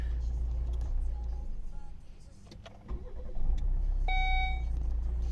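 A 2012 Volvo V60 2.0 D3 diesel with automatic transmission starting up: a quiet idle rumble, then a brief crank and catch as the engine settles into a steady low hum, with a short electronic beep.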